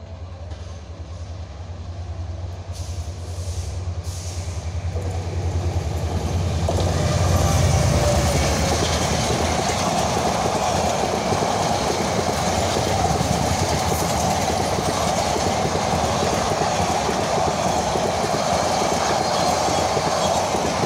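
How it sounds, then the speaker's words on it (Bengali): A train approaches on a railway line with a green signal and rushes past close by, building to a loud, steady roar of wheels and carriages with clickety-clack that holds to the end, no voices. "আমরা দেখতে পাচ্ছি একটি ট্রেন আসতেছে"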